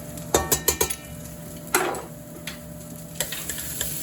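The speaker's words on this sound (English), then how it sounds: "you just want to stir that around so you can kind of smell the garlic" Garlic is stirred in a hot pan with a metal utensil, giving a quick run of four sharp scraping clanks, then a soft sizzle swell and a few lighter taps close by.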